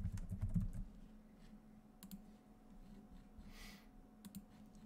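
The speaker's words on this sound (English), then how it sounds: "So we'll go down here and type in server manager." Quiet typing on a computer keyboard, a short burst of close key clicks followed by a few scattered taps, with a brief rustle in the middle.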